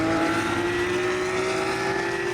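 Race cars roar past at a racetrack, a loud continuous engine drone with a steady high whine holding throughout, no voices.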